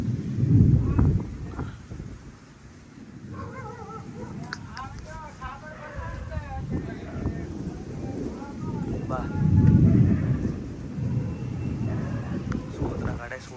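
A violent windstorm with heavy rain in Patan, Gujarat, heard as heavy gusts buffeting the microphone that swell and fade in waves, with rough rumbling and excited shouting voices over the top.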